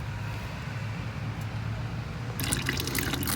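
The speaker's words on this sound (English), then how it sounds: "At the moment I'm dumping the coolant and removing the fans." Coolant drains from a red 1986 Porsche 944 raised on ramps in a quiet, steady trickle that turns into louder splashing near the end.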